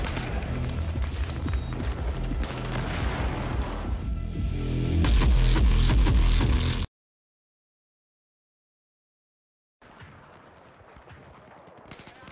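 M16A4 assault rifle gunfire in the video game Battlefield 4: rapid, dense bursts of shots that swell louder, cut to silence, then return as fainter, sparser fire.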